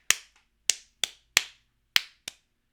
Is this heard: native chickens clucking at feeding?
no